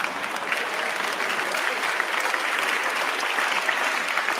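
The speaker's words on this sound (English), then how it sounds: "Stop the clapping." An audience applauds a card trick at a talk, dense and even clapping from a large crowd that holds steady and loud throughout.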